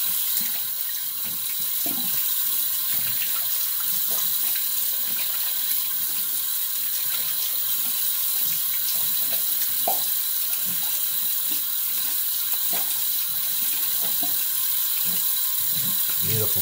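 Water runs steadily from a tap while a razor is rinsed off in a sink, a continuous broad hiss with small clicks and knocks scattered over it and no talking.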